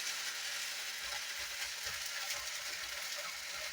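Rice and chorizo frying over medium-high heat in a hot pan or skillet, a steady, faint, hissing sizzle with no talk, continuous throughout.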